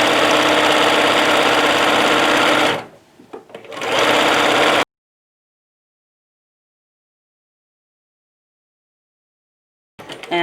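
A sewing machine stitches fabric for pajama pants in a loud, steady mechanical whir for about three seconds, pauses briefly, runs again for a moment, then falls silent for several seconds before starting up once more at the very end.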